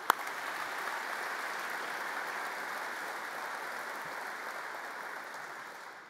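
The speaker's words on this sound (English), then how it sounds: "let's give the Joint Chiefs and the combatant commanders a round of applause" An audience at a national defense forum luncheon applauds the Joint Chiefs and combatant commanders: a sharp first clap, then a steady, fairly soft roomful of clapping that holds for several seconds and tapers off at the end.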